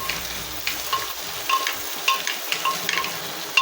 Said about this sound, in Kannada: ಬ್ರೌನ್ ಆಗುವ ತನಕ ಸ್ವಲ್ಪ ಫ್ರೈ ಮಾಡುವ.